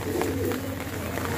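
Old-breed pigeons kept in Tonk coo close by in a soft, steady, low murmur that carries on without a break.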